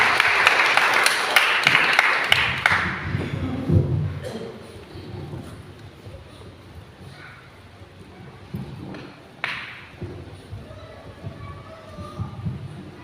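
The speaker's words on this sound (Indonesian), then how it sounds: "Tepuk tangan bagi Tuhan Yesus." A burst of crowd applause at a church service fades out over a few seconds, followed by quieter room noise and scattered talking voices.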